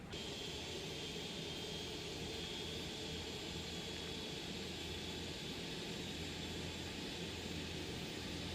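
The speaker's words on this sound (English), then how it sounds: "So as you can see, the 747 is perfectly capable of a 2 at once engine start." A Singapore Airlines Boeing 747-400, departing Shanghai Pudong, has two of its jet engines spooling up together, giving a steady, loud roar with a thin high whine held for the whole stretch.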